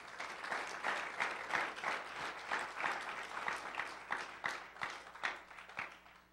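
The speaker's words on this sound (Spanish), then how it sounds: "Denle un aplauso al Señor." A church congregation gives a round of applause, a lively close burst of many hands clapping with uneven rhythm that holds steady for several seconds.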